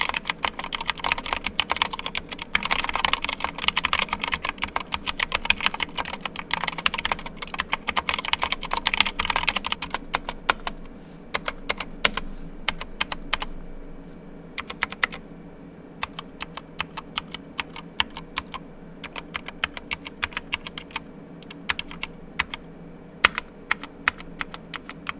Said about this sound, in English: in case you're wondering how the keyboard sounds when typing